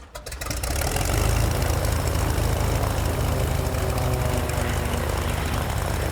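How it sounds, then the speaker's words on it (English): A small propeller aircraft's engine coughs to life after a few sputters, then settles into a loud, steady idle with a continuous propeller drone close by. "Gentlemen, start your engines."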